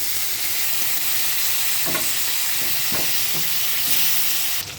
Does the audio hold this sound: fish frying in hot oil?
yes